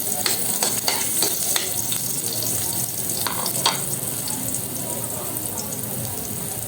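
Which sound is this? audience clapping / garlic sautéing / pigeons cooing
garlic sautéing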